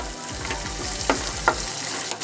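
Cashews and curry leaves frying in hot fat for venn pongal, a loud close crackling sizzle with a rapid regular popping pulse and a few sharper spatters, no voices.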